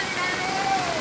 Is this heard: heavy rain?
yes